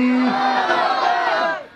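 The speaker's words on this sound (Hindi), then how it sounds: "जरा झूम के नारा लगाओ" A crowd at a religious gathering answers the Nara-e-Takbeer chant with a loud collective shout. A single sustained roar of voices lasts under two seconds and then fades.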